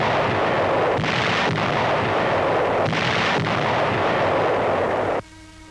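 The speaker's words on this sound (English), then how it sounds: "entrenched Japs ahead are pounded by our heavy howitzers" Heavy howitzers firing on entrenched positions outside Manila in 1945. Loud booming blasts land near the one-second and three-second marks over a constant roar of battle, which then drops away abruptly.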